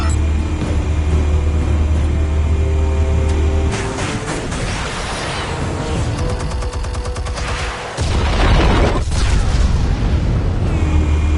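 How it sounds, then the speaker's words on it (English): Explosives detonating in the Batman Telltale Series game: a sustained, loud roar of blasts and crackling debris with a sharp burst around eight seconds, no voices. "Explosives armed. Fire when ready."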